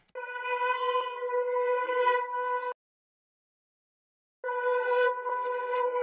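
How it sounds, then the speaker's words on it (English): A dark one-shot sample, stretched, pitched down and chopped, plays as a sustained harmonic tone with a steady buzzy timbre, cutting off abruptly for a silent gap before returning at full level. "I stretched it, pitched it down a little bit and chopped it up"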